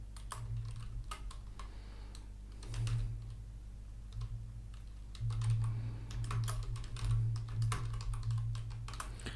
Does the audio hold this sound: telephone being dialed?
no